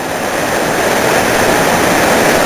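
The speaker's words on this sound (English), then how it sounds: "You can probably hear the rushing waters by now" A river waterfall in a gorge roars close and loud, a constant broadband rush of falling water with no break and no voices.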